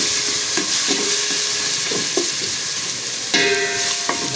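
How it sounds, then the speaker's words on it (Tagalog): Garlic fries in a heated pan with a steady close sizzle, while a utensil scrapes and stirs at intervals. "Magpa-fried muna po tayo ng ating bawang."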